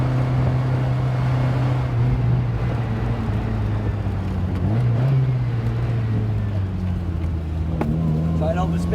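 A small car drives along a road with a steady droning engine note that rises slightly at moments, heard from inside while voices talk over it.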